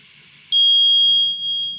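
An Arduino Uno alcohol detector's alarm sounds as a loud, sustained electronic beep tone that starts abruptly and holds steady to the end, close and alone with no talking.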